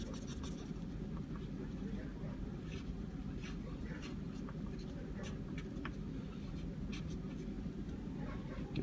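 Pencil or marker scratching across paper while a cartoon Mini Cooper S is sketched by hand, steady close scribbling strokes over a constant low background rumble.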